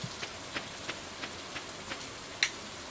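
Rain falls steadily in the farming video game Stardew Valley, a soft continuous patter with faint periodic drops and one sharper drip near the end, quiet and without talk.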